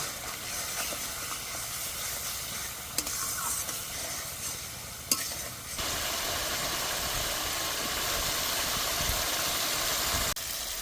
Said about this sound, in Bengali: এবার দিয়ে দেব স্বাদ মতো লবণ, হলুদ গুঁড়ো। এবার ভালো করে কষে নেব।